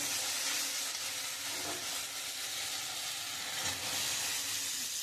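Green peas drop into spiced masala sizzling in a pan, giving a loud, continuous frying hiss with faint stirring scrapes and no talk.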